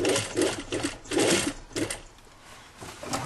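Sewing machine topstitching a seam on a jacket, running in short, rapid bursts of needle chatter that start and stop a few times, close up and fairly loud, then easing off near the end.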